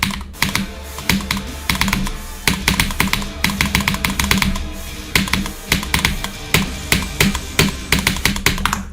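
Typing on a Corsair K70 TKL Pro RGB keyboard, a brisk, close run of crisp key clicks in irregular bursts with brief pauses, steady and loud throughout.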